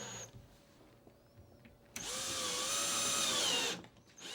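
A power drill drives fasteners into cleats inside a wall opening, heard as one loud, steady whir of about two seconds that follows a few quiet clicks and handling sounds, with no talking.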